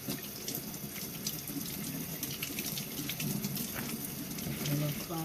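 Running tap water washing sticky glass canning jars at a sink, a steady close splash and trickle throughout with faint clinks and handling noises.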